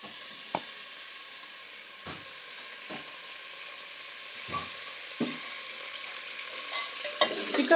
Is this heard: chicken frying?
yes